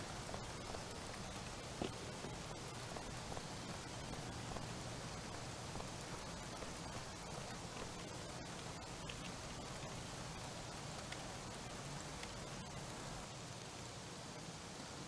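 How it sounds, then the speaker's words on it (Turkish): Steady rain falling in the Car Dealership Simulator video game, a constant even hiss of drops that holds at low level for the whole stretch with no voices. "Abi bitmiyor yağmur."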